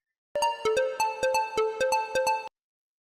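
A phone rings with a bright electronic tone pulsing in quick repeated beeps in a steady melodic pattern, close and clear, then cutting off abruptly after about two seconds.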